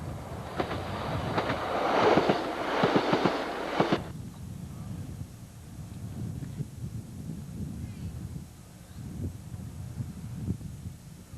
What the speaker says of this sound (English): Like I said, here comes the train.